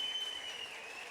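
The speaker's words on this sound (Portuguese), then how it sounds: "Vamos aplaudir ao Senhor" A church congregation applauds at a service, a dense, even patter of many hands clapping at moderate distance, continuing for the whole brief moment without any voices standing out.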